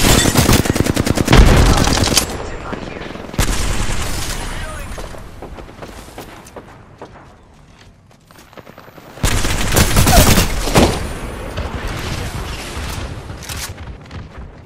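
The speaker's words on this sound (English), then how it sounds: "Grenade out." Grenade explosion and bursts of gunfire in the battle royale game Apex Legends: loud dense volleys and a blast, a quieter lull, then another heavy burst of rapid fire, with people talking over it.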